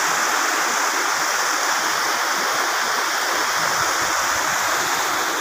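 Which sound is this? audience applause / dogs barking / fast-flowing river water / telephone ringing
fast-flowing river water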